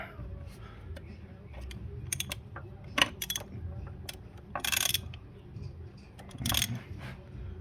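A ratcheting wrench tightens a spark plug on a 2005 Ford Escape, giving short bursts of clicks and small metallic knocks, close and fairly quiet, with faint movement between the strokes.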